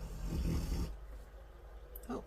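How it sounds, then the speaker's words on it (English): A dog lying on the floor snores, giving a loud, rough, low rasping breath close by that fades into quiet, followed by a faint brief sound near the end. "now we've got Gus in here snoring as well"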